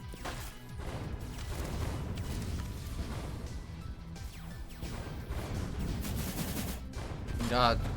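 Missiles firing in the Neon Striker shooter game, with a dense, continuous barrage of booming blasts and crashing impacts that runs throughout, ending in a brighter whooshing burst near the close.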